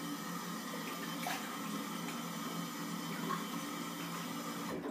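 Tap water running steadily into a sink while soap is rinsed off a face, a constant close hiss with faint splashes and no speech.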